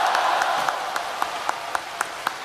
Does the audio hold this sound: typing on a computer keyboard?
no